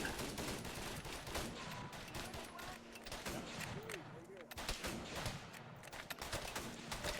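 Arma 3 combat during a First Indochina War operation: dense, distant rattling gunfire with rapid overlapping shots and thuds, fairly quiet, running continuously under a voice that talks over it.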